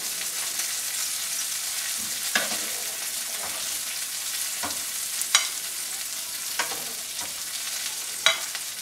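Walnuts toast in hot oil in a pan for a seared pork chop salad, giving a steady close sizzle with a few sharp crackles and pops scattered throughout.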